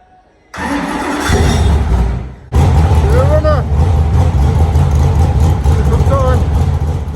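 An F1 race car engine cranks and then fires up, a brief starter whine followed by a loud, rough idle that keeps running with occasional revs. Close, with voices heard around it.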